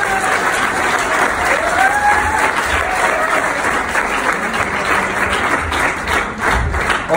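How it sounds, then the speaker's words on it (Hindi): An audience at a batch ceremony applauds for mentors, with dense, loud, sustained clapping from a crowd that continues throughout. "एक बार मैं चाहता हूँ कि सभी मेंटर्स के लिए एक बार जबरदस्त ताली होनी चाहिए।"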